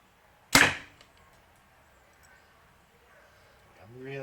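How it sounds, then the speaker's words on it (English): A PSE XF30 EC compound bow shot indoors gives one sharp, loud release snap followed by a faint fading buzz, with quiet room noise after it and a voice starting up at the end. "We'll just fire one more and see if I can get a speed."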